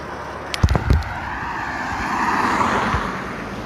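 A car turns around on a rural Vermont road, with a few sharp knocks and thumps up close at first, then a steady engine hum that swells and drifts as it pulls away.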